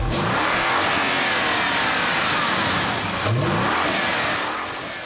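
Audi RS6 station wagon with its biturbo V8 engine revving hard, a loud, close, continuous roar that swells, dips briefly and climbs again.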